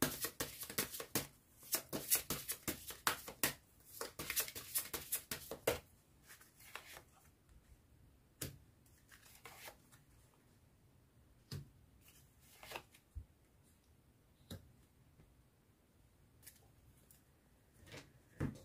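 Tarot cards shuffled briskly up close, a quick burst of riffling and slapping for several seconds, then sparse single clicks and soft slides as individual cards are drawn and laid down in a quiet room.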